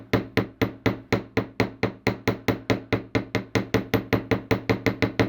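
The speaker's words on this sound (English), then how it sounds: "I'm just going to lightly hammer." A small hammer lightly tapping jewelry wire for heart-shaped earrings, about twenty evenly spaced sharp taps in a steady rhythm, close and clear with no talking.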